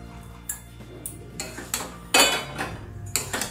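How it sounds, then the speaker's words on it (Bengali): Fried pointed gourd pieces tipped into a pan of spice masala, with a few metal clinks and scrapes of a spoon against the pan, one louder clatter in the middle, close and alone. "মশলাটা নেড়ে নিয়ে এবার আমি ভাজা পটলগুলো এতে দিয়ে দিলাম"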